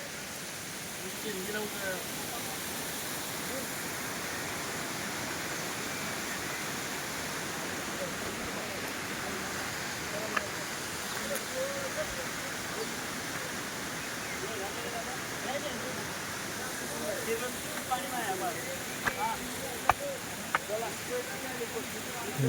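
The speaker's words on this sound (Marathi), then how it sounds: "ब्रह्मगिरी पर्वताहून अनेक धबधब्याचा प्रवाह सुंदर असा" Several waterfalls pouring down Brahmagiri mountain make a steady, soft rushing wash that holds even throughout, with faint voices under it at times.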